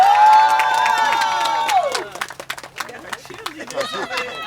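A crowd cheers and whoops for an elementary school principal at an outdoor sidewalk ribbon-cutting ceremony, with high excited voices sliding downward, then scattered claps and calls that thin out unevenly.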